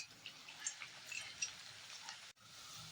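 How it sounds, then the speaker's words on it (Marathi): Chips for a fasting recipe fry in hot oil in a kadhai, giving a soft, steady sizzle with light bubbling crackles. The sound is quiet and close, with a brief dropout near the end. "असे चिप्स सोडायचे आहेत आणि चांगले खरपूस तळून घ्यायचे आहेत"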